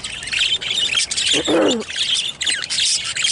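Pet birds in a divided flight cage chirp and call constantly, bright repeated tweets close up with one louder squawky call in the middle, no talking.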